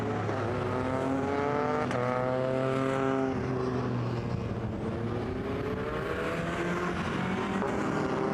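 Several BMW race cars, including 325i and M3 GTR models, circulate at reduced pace behind the safety car at Zandvoort, their engines a steady, loud, continuous drone with shifting pitches as they pass, no talk over it.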